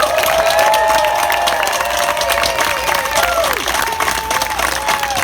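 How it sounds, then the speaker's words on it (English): A large crowd at a navy ship naming ceremony applauds and cheers loudly and continuously for veterans, with scattered whoops and shouts rising through the dense clapping. "please give a round of applause to every single veteran who has served to protect our country tonight."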